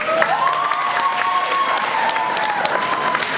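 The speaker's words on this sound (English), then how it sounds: "I think you deserve a massive round of applause" A school audience at a GCSE presentation evening breaks into a full, dense round of applause that holds steady throughout, with a thin whistle-like tone riding above the clapping.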